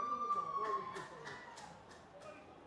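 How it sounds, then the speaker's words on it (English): A rugby half-time siren sounds at a semi-final cup match, a wailing tone heard at a distance, with a commentator talking over it. "As the half-time siren goes off."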